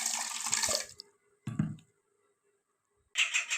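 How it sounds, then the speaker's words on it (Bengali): Water is poured over a cup of sugar in a pot for rasgulla syrup: a splashing pour, a short second splash after a pause, then a final burst after near silence, all close and without talk. "এবার একটা পাত্রের মধ্যে এক কাপ চিনি নিয়েছি আর তিন কাপ জল অ্যাড করছি এর সাথে"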